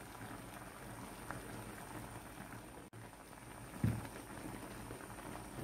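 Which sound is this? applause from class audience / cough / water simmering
water simmering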